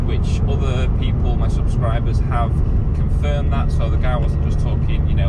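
A Ford Fiesta ST150 fitted with a full Milltek exhaust runs with a steady, low engine drone held in the background beneath continuous talking.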